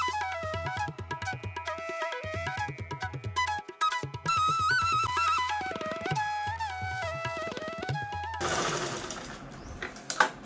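A sewing machine stitches a zipper onto a large fabric baby travel bag in short rhythmic bursts with pauses, while background music plays and a sharp noise burst comes near the end.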